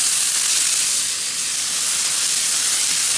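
Burger patty sizzling loudly on a hot griddle right after being flipped, a steady dense hiss holding throughout with no voices.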